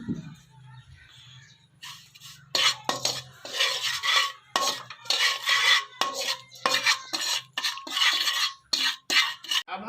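Prepared masala tipped into 3 to 4 spoons of hot oil in a pan, then stirred with a metal spoon. Repeated loud scraping and clinking of the spoon against the pan come in irregular bursts, close up, with no talk.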